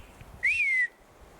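A single short whistle rises and then slides downward in the woods, clear but fairly faint over a low background hum, with no voices.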